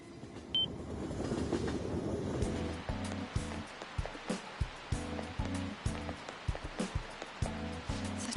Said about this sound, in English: Such heavy rain.